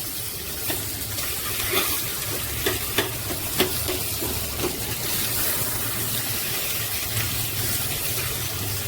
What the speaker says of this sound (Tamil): இந்த மாதிரி இப்போ எடுத்து இந்த அரைச்சி வச்ச தொகையில் போட்டுடலாம். கலந்து விட்டுக்கலாம்.